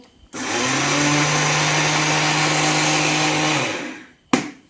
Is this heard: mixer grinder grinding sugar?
yes